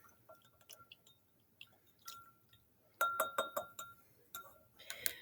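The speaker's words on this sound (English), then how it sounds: "Stir that up real good." Dyed salt water is stirred in a glass, producing a series of bright clinks and taps of a utensil against the glass, quiet at first and then louder and rapid in bursts, close by.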